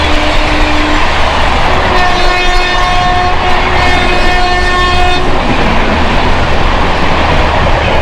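Howrah–Yesvantpur Superfast Express train passing close by with a loud continuous rumble and wheel clatter, its sustained horn blaring in two long tones over the middle of the pass.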